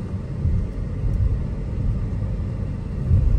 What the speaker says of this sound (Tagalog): Yan, ang kukulit na mga tricycle.